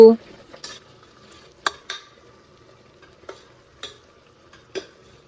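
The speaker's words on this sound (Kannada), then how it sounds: "ಆಮೇಲೆ ಸ್ವಲ್ಪ ಫ್ರೈ ಆಗೋವರೆಗೂ ವೇಟ್ ಮಾಡ್ಬೇಕು" A spoon scrapes and clinks in a pan as masala with turmeric and salt fries for an egg and chicken sambar: several sharp, widely spaced strokes, quiet in between, with only a faint sizzle.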